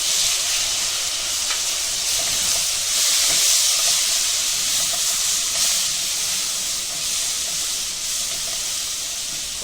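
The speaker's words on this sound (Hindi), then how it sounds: "अभी मसाले को भूनेंगे।" Spices fry in a pan for spicy okra, giving a loud, steady sizzle and steamy hiss that swells and eases slightly, heard close up with no speech.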